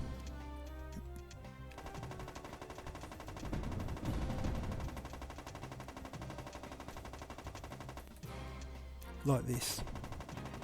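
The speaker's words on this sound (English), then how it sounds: "you shoot him just when he's on the edge of the screen before he gets a chance to aim at you" Gunfire aimed at a gun emplacement in the PS2 arcade shooter Borderline, with rapid machine-gun style shots layered over game music and a voice speaking, with a brief louder blast near the end.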